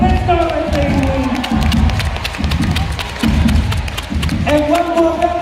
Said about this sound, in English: Give it up for the Poles